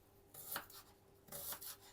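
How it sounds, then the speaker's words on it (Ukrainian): Two quick knife strokes slicing an onion in half on a board, close and fairly soft, with a brief pause between them. "ріжу я цибульку зараз навпіл"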